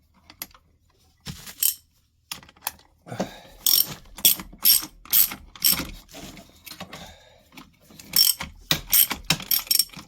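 Repeated ratcheting clicks from a wrench tightening a bolt on a bike brake, coming in close, loud bursts of rapid strokes with short pauses between them.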